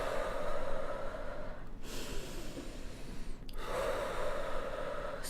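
Forceful breathing during a breathwork exercise: strong noisy rushes of air in and out, separated by a short pause, close and loud with no talking.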